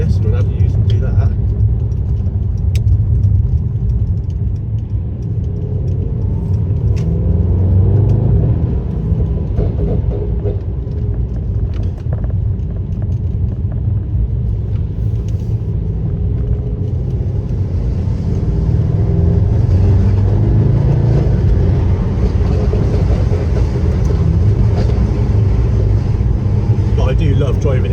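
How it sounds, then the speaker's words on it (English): A Mercedes E63 AMG engine hums with a deep, continuous rumble from inside the car while driving, steady throughout with slight swells, as voices talk over it. "I do love driving this car."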